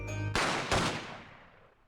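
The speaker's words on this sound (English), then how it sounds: "I heard a couple of gunshots go off. 2, I think. Almost at the same time." Two gunshot sound effects from The Great Ace Attorney video game fire almost together, a sharp loud blast followed a split second later by a second, then a long fading echo.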